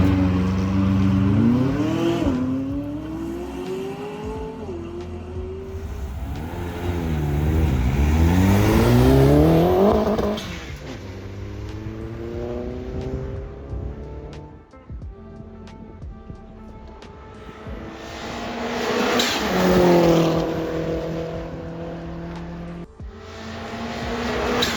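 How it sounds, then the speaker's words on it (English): A modified Mini races around the Goodwood circuit, its engine revving hard through rising and falling gear sweeps, loudest as it passes near before fading off, with tires briefly squealing amid crowd and track ambience. "It was great fun to see my brother go around in his little souped up Mini."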